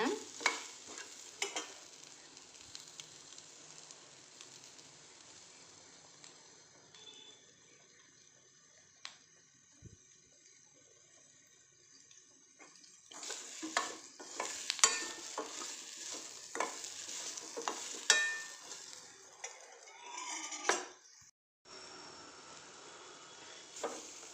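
Baby potatoes cooking with masala in a pan on low heat, a quiet steady sizzle that grows busier midway, with repeated scrapes and clacks of a spoon stirring against the pan, close by.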